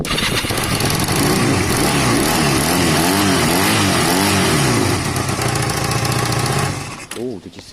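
A Honda CB250 cafe racer motorcycle engine warming up, idling loudly and close by with a steady rumble and rising and falling revs, before cutting out near the end.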